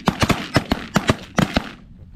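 Shotguns firing at ducks on a duck hunt in Arkansas, about a dozen loud cracks in quick uneven bursts over roughly a second and a half, then fading into quiet.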